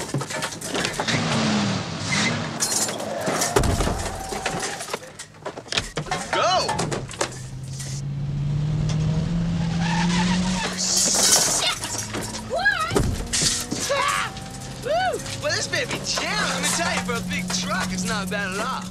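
Car in a 1986 Friday the 13th Part VI scene pulling away fast, engine roaring and tires squealing over loud whoops and shouting voices, with a door clunk and rising engine drone.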